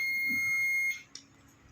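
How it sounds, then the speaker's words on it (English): A multimeter gives a continuity beep while a power transistor is tested, one steady high tone lasting about a second before cutting off, followed by a faint click in a quiet room. "It is giving beeps on both sides."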